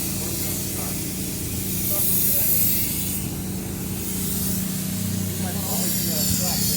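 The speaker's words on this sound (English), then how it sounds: "I'm going to just spray it on the wall." A steady, loud hiss of spray foam being sprayed onto a wall runs continuously over a low mechanical hum, with faint voices in the background.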